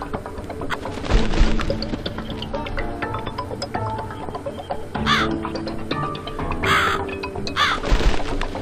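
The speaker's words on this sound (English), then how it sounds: "I'm gonna follow the crow." Several crow caws in The Cat Lady video game, a few harsh calls spaced out over dark ambient music with scattered thuds.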